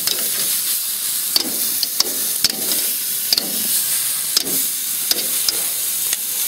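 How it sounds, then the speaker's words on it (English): Two large beef fillets sizzling on a grill, a steady bright hiss with sharp pops and crackles recurring every second or so, close and alone without talk. "you throw 2 big old fillets on the grill."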